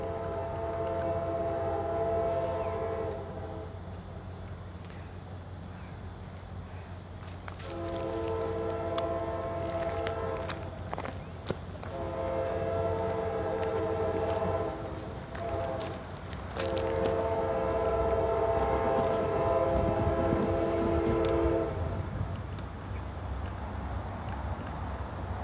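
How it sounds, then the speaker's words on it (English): A Norfolk Southern intermodal freight train led by an AC44C6M locomotive passes, its low steady diesel hum underlying repeated loud horn blasts in long sustained chords with brief breaks between them. "I can hear the hum of the locomotive."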